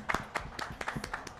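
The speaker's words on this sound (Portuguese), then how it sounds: "Palmas pro Patife" Brief applause from a few people at a UFC 2 esports fighting-game event, light irregular claps lasting about a second and a half.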